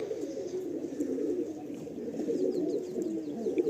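Madrasi tournament pigeons coo steadily in a low, continuous murmur of overlapping calls, close by and moderately loud, with a few faint higher chirps in the background.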